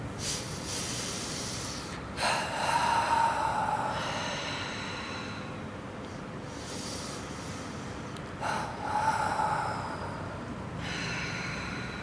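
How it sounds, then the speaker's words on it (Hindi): Two long, deep exhalations during a guided yoga breathing exercise, each a soft breathy rush rising and fading, spaced several seconds apart over a quiet hiss. "गहरी लंबी सांस लेते हुए 2 बार छोड़ें।"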